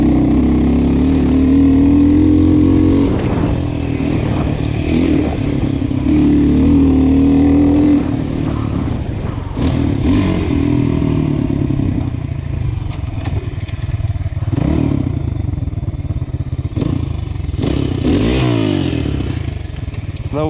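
A KTM RXF 150 dirt bike engine drones and revs up close, with the pitch rising and falling over about twenty seconds and some clattering mixed in.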